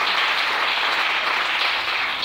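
A church congregation applauds to acclaim the Lord, with close, dense and steady clapping that carries on without a break.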